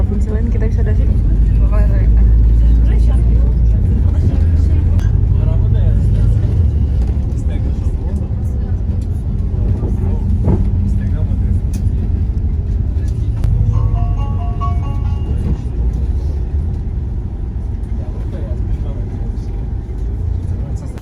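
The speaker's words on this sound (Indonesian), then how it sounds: "Ini terminal bus antar kota guys." Steady traffic rumble fills an intercity bus terminal in a cold Turkish city, with engines idling and vehicles passing close by in a continuous low roar, while a voice talks over it.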